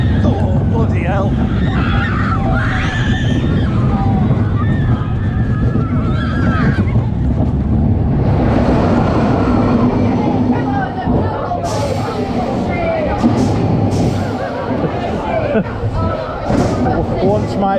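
On the Wipeout ride at Pleasurewood Hills amusement park, heavy wind rush and a steady rumble of motion continue loudly throughout, with people talking and calling out over the noise.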